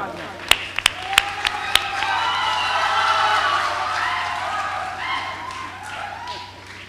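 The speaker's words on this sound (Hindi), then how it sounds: "जोरदार तालियां।" At a 2018 mushaira in Phoolpur, a few sharp individual claps ring out, then the audience breaks into sustained applause, with voices mingling in the crowd noise.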